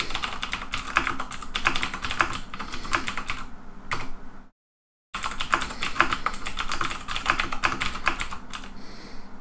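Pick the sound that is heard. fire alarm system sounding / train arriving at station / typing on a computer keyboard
typing on a computer keyboard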